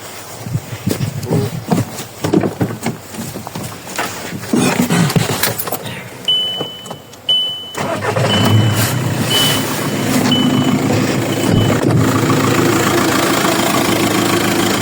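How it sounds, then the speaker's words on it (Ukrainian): A car engine in a forest turns over and settles into a steady idle, loud and close, while a repeating electronic beep chirps above it for a few seconds; there is no talking. "завести машину, щоб обов'язково щоб машина працювала."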